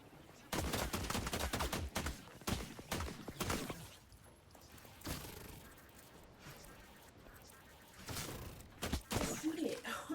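Gunfire in the video game The Last Caretaker: several loud, sharp bursts of shots close by, a quieter stretch in the middle, then more rapid shots toward the end.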